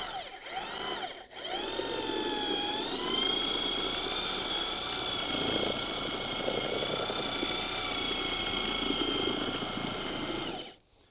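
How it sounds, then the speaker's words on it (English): A power drill spins a paint mixer fitted with two welded-on blades, churning wet coffee grounds into briquette mix; a loud, continuous close-up whirring drone with tonal whine runs almost the whole time after a brief start and stop. "I took a paint mixer and welded on 2 little blades"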